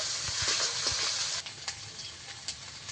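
Ginger and garlic paste frying in a pan, a close steady sizzling hiss with faint crackles and soft clinks of stirring, easing somewhat halfway through, no voices.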